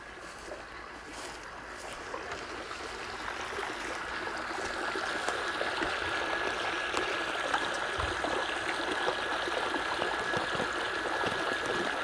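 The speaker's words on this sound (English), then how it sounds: "let's turn the water on first" Water is turned on and runs steadily, a continuous rushing trickle that swells slightly over the first few seconds and then holds at a moderate level.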